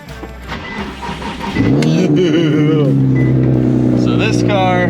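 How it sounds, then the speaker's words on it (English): A Nissan 370Z being readied for a GLTC race build cranks and fires, catching after a brief starter whir and settling into a loud, steady idle nearby. "this car probably won't start"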